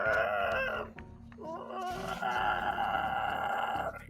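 A bird-like creature fallen to a cavern floor gives a harsh, raspy squawk followed by a long, rough, crowing cry, loud and close, in a fantasy sound effect with a low rumbling bed beneath.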